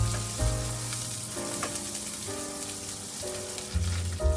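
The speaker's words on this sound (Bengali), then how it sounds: "পেঁয়াজটা বেরেস্তা করে ভেজে নেব।" Onions deep-fry in hot oil in a pan until crisp, a loud close bubbling sizzle with bursts of crackle and occasional stirring, no voices.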